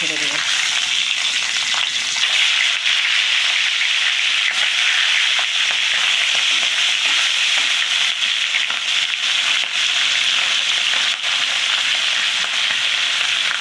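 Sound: tangra fish frying in mustard oil

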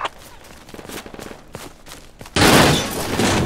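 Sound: 50 cal machine gun fire in a video game

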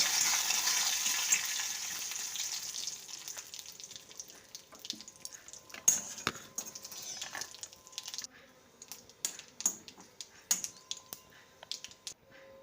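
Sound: tempering cumin, mustard seeds, curry leaves, dried red chilies in oil

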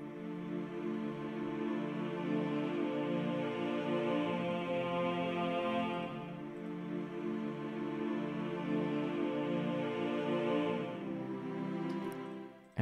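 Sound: synth pad in melodic dubstep intro

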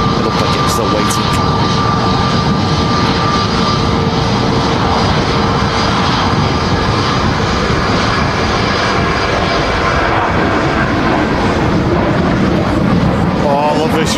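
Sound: airliner at windy Manchester Airport

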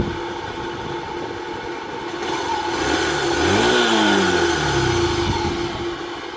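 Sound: CG motorcycle engine revving

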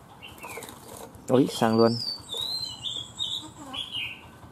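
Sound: bird flapping wings and chirping

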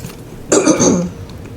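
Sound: coughing and throat clearing

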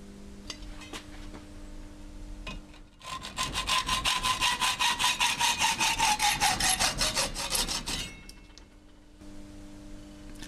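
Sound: hacksaw cutting out a speargun trigger and sear

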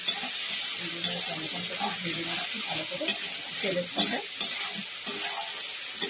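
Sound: fish frying in a pan for curry

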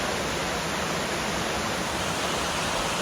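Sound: Yongseon waterfall, Seoraksan

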